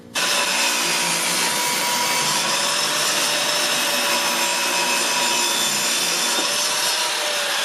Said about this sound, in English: I'll be using that to process it through the planer